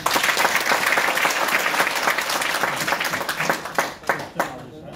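An audience at an offline meetup in Vijayawada applauds Rajesh, the lab manager, with dense, steady clapping that thins and trails off toward the end, with some voices mixed in.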